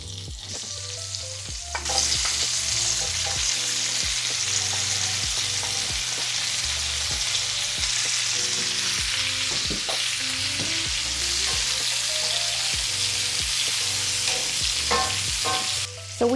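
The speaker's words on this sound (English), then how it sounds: "I'm going to go ahead and put my onion and pepper in there and also the chopped radishes" Onion, pepper and chopped radishes fry at medium heat in a breakfast skillet, giving a continuous loud sizzle with repeated scraping and stirring knocks from a utensil throughout.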